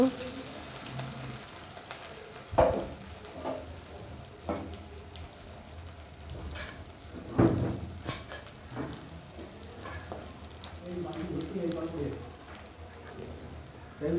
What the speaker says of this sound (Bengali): পেঁয়াজগুলো একটু নাড়াচাড়া করে নেব।